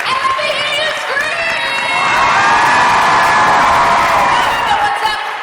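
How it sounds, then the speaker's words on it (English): A convention panel crowd at Emerald City Comic Con cheers and screams, a loud, dense roar that swells in the middle and stays high throughout, with shrill whoops above the clapping. "let me hear you scream!"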